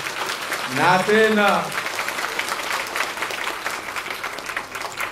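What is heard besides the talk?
crowd applauding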